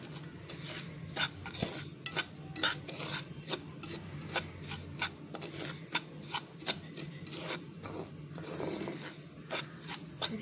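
A spoon scrapes and stirs semolina roasting in ghee in a pan, a close, rhythmic series of rasping strokes repeating about every half second over a faint sizzle.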